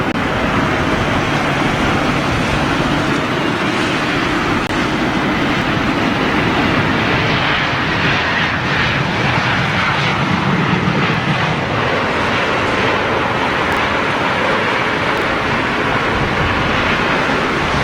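A fixed-wing airliner arriving at London Heathrow in stormy weather, a steady broad roar of engines mixed with heavy wind buffeting, loud and continuous throughout with no voices.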